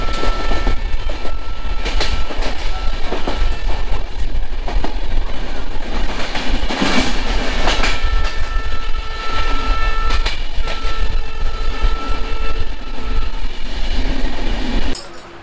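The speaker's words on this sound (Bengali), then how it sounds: "বিধাননগর থেকে আমাদের ট্রেন ছাড়লো।" An Indian Railways train with LHB coaches rolls on after departing Bidhannagar Road station in Kolkata, giving a loud, steady rumble with rhythmic wheel clatter and a horn sounding at times, with no voices.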